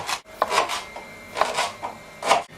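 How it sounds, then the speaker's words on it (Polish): A knife cutting ingredients for Polish cabbage soup, giving about four separate scraping cuts spaced across a couple of seconds, close and moderately loud. "Po to kroję, żeby się nie ciągnął."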